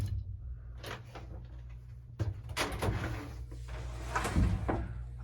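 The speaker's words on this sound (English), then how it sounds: "You have to kind of let the door slam a little, or else it won't shut all the way." An old 1924 elevator door in a Chicago-area building is pulled shut, giving a sharp slam around two seconds in, followed by further rattling knocks and clunks over a steady low mechanical hum.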